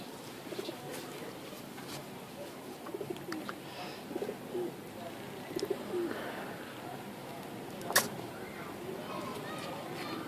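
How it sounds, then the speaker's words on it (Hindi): Soft, low cooing of a pigeon repeats in short bursts, close by, over a quiet background with light rustling. "मैं कबूतर पकड़ के लाया हूँ"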